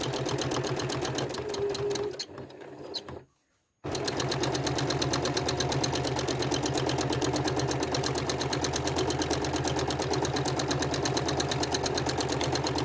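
A sewing machine stitches a quilt seam line in rapid, even bursts of needle clatter, close and steady, pausing briefly for about two seconds before running on continuously.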